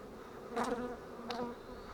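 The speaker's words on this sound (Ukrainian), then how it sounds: "Це бджоли так кучкуються" Honey bees cluster in a hive at an apiary, humming in a close, steady drone, with two brief swells of louder buzzing as insects pass nearby.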